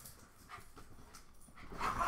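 Dogs whimper and pant softly nearby in a quiet indoor room, with faint whines and breathy panting that grows slightly louder toward the end.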